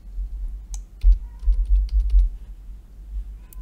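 Computer keyboard typing in short bursts of close, crisp key clicks, with brief pauses between clusters.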